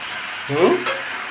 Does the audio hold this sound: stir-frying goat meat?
yes